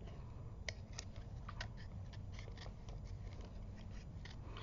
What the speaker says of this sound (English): So you literally just want to cut around while you're holding the gem